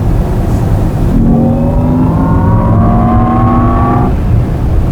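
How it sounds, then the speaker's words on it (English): Synthesized active interior drive sound of a Jaguar I-Pace electric car in dynamic mode, a loud rising engine-like whine that climbs steadily in pitch for a few seconds, then stops, heard over steady cabin road noise. "So the active interior sound as they're now calling it."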